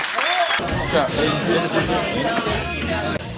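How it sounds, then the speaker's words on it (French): Applause from a cinema audience at a film premiere, a dense continuous roar of many hands clapping, with crowd voices and babble mixed in. "J'aimerais qu'on termine sur des applaudissements pour Romain"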